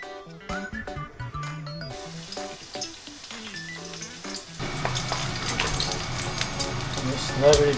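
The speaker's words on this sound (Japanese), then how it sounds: "よし、だいぶ炒めました。" Sardines frying in oil in a pan for pasta sizzle steadily, rising louder toward the end, while a person speaks over the early part.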